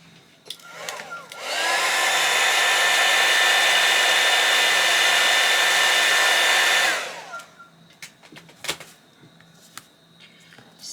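A hair dryer blows steadily at close range for about five seconds, drying a junk journal card, switching on and off with a few small handling clicks afterward.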